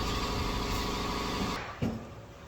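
A power saw cuts through a 1-inch wooden dowel, a loud steady whining buzz that drops away after about a second and a half as the cut finishes, ending with a short thump close by.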